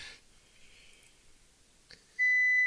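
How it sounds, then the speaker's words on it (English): A censor beep from voice control software: one steady electronic tone that cuts in sharply near the end and holds loud and pure, after a near-silent stretch with faint clicks. "It's going to beep all the time now to say dog in a word"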